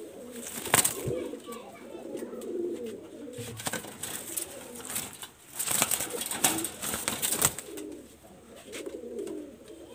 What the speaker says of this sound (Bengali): খুবই ছটফটি একটা অ্যাক্টিভ একটা নর কবুতর, গলায় লাল, ওড়াবাজি গ্যারান্টি থাকবে।